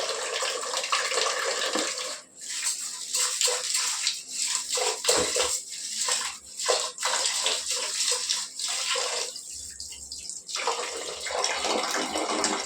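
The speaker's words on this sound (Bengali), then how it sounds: "টাইম কলে জল দিয়ে একটু চালটা ধুয়ে নিই" Water runs from a low-pressure tap while rice is rinsed, a steady broadband wash with splashy dips and surges, close and continuous throughout.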